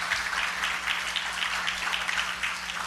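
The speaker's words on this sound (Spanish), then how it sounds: "Dele aplauso fuerte al Rey." A church congregation claps loudly and steadily through a service. The dense, sustained applause fills the room, with a low hum underneath.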